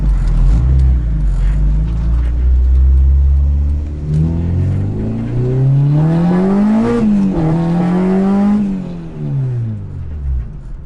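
A Honda car engine with a Skunk2 MegaPower RR exhaust rumbles loudly, then revs up and down in rising and falling sweeps, the exhaust note close and throaty.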